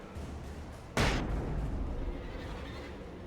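A flashbang in the horror video game Alan Wake goes off with one sudden loud bang at about a second in, followed by a long ringing rumble that slowly fades.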